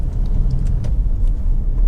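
Honda CR-V 2.2 i-DTEC SR 4x4 diesel on a road test, a steady, close low engine and road rumble with continuous tyre noise and no speech.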